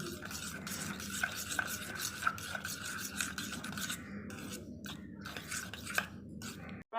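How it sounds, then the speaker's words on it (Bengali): Raw fish is worked together with mustard oil by hand, a close, soft squelching and rubbing with repeated wet strokes in an uneven rhythm, briefly pausing near the end. "মাছটার মধ্যে মাখিয়ে একটু সর্ষের তেল দিয়ে নিলাম, এটাও আমি মিক্স করে নেব।"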